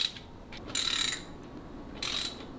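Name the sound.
ratchet backing out 3/16 hex head cam cover bolts on Harley engine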